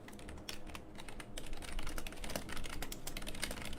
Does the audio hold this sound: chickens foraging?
no